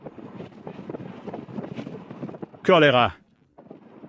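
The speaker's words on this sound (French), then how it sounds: "Vent. C'est carrément brutal." Strong ocean wind buffets the microphone on an exposed Icelandic fjord road, a loud rough roar bursting in briefly over ongoing talk.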